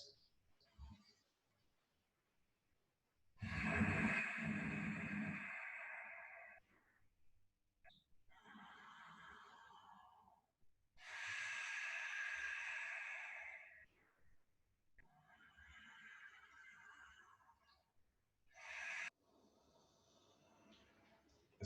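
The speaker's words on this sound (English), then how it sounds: "Just take 3 more deep Ujjayi breaths." Deep Ujjayi yoga breaths drawn slowly through the throat, several long soft hissing inhales and exhales separated by pauses, close but quiet.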